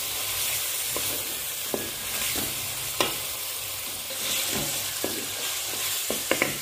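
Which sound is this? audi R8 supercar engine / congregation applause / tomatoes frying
tomatoes frying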